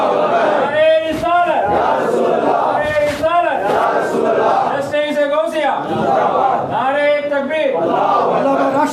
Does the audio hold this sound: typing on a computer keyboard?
no